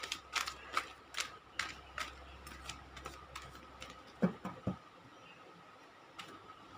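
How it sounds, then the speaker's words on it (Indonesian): Tarot cards shuffled by hand, a run of crisp quick riffling ticks and flicks, close and fairly faint, with a couple of sharper slaps near the end and no talking. "mensapel kartu."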